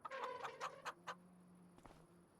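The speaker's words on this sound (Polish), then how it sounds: "A tutaj są kury." Chickens cluck softly in a coop on a farm in the video game Farming Simulator 25, a few short, quiet clucks over faint ambient background hum.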